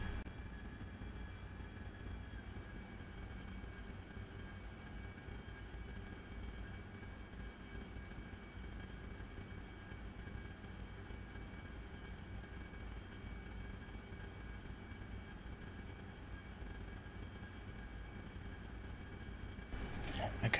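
A RAZBAM AV-8B Harrier's jet engine in the DCS World flight simulator drones steadily at close range, a dense roar with constant whining tones that holds even throughout and swells slightly at the very end.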